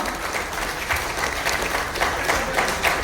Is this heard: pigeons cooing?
no